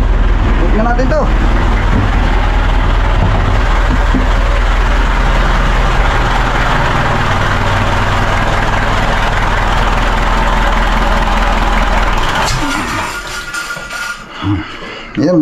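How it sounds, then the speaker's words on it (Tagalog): A boat engine by a river runs loud and steady with a low heavy drone, then shuts off near the end, leaving quiet and faint rustling. "Papatayin na natin ang makina."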